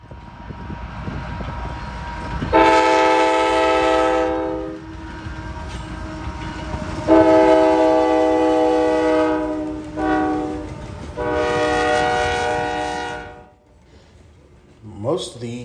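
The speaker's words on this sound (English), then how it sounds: "this one has some kind of Nathan horn back to the Dash 8 series era" A CSX ET-44AC freight locomotive fitted with an older Nathan air horn sounds three long, loud, harmonic blasts, the last two separated by a brief break, with rumbling rail noise beneath.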